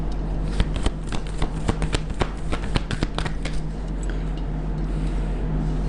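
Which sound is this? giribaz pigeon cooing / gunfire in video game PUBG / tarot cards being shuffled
tarot cards being shuffled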